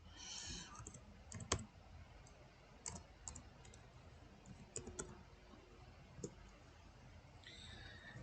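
Faint, scattered clicks of a computer keyboard in a quiet room, a few sharper taps and short clusters spread unevenly across the stretch.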